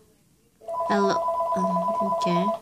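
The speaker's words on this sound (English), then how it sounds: "I'm sorry about the phone" A telephone rings indoors with a bright, warbling electronic tone, repeating in short bursts for about two seconds, close and clear, while a voice briefly speaks over it.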